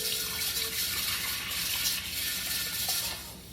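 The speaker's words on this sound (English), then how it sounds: "I'm just going to pour about half of this into the pan." Tea poured from a four-cup measure into a pan for lilac jelly, a steady close splash and trickle of liquid running continuously for a few seconds without talk.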